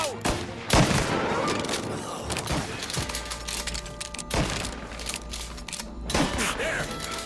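An enemy's gunfire echoes during a shootout in the video game Mafia, loud bursts and single shots mixed with thuds and mechanical clatter, with a character's voice shouting over the fighting.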